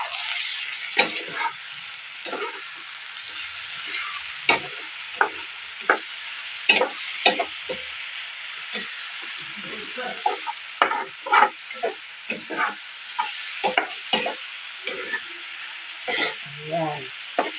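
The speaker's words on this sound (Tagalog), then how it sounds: "Haluin na natin." Eggplant and egg being stirred in a frying pan for a Filipino sauté, with repeated sharp scraping clicks of the utensil over a steady low sizzle, up close and alone.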